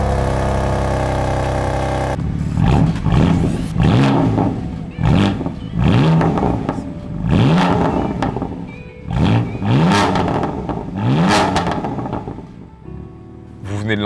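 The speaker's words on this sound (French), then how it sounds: "je vais vous faire écouter le son de ce fabuleux 3 litres 6 cylindres" A BMW M3 CS with a 3.0-litre six-cylinder engine idles steadily, then revs repeatedly in sharp, loud blips that rise and fall in a series of throttle bursts before settling back to idle.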